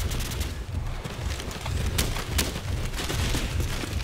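Gunfire in the video game Call of Duty, on a Rio map, comes as bursts of rapid shots and a few sharp cracks over a rumbling low background, fairly loud with no talk.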